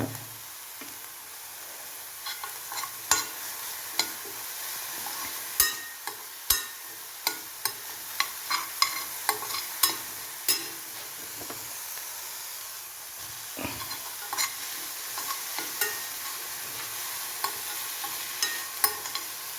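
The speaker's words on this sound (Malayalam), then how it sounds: "അപ്പോൾ നമുക്ക് ബാക്കി കാര്യങ്ങൾ ചേർക്കാം. വെളുത്തുള്ളി, ഇഞ്ചി, കറിവേപ്പില," Garlic, ginger and curry leaves fry in hot oil in a pan for an egg curry, with a soft constant sizzle and hiss. Sharp clicks of a spoon stirring against the pan break through repeatedly, alone and without speech.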